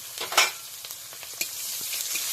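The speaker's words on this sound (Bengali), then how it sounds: "পেঁয়াজ কুচিগুলো একটু নাড়িয়ে চাড়িয়ে লাল লাল করে ভেজে নিচ্ছি।" Chopped onions sizzle and crackle in hot oil, with occasional scrapes of a spoon stirring the pan, steady and close.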